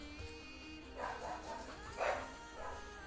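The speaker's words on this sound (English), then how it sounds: "Dogs losing their mind as usual." Dogs bark indoors in a home, a few separate muffled woofs spaced about a second apart, moderately distant behind a steady background hum.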